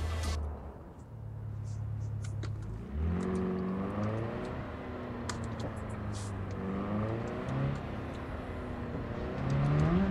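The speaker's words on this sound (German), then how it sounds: "Wir müssen das Auto verstecken." A car engine hums and revs steadily in Cyberpunk 2077, shifting pitch as it drives, with faint clicks and taps layered over the continuous motor drone.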